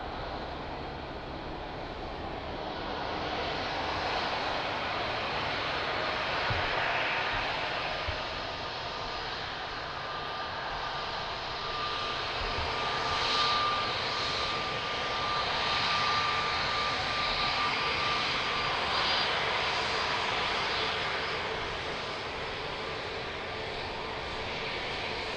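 An airplane takes off at Lisbon Airport, its engine roar a steady broadband rumble that holds loud for the whole stretch, with a faint tone riding through the middle.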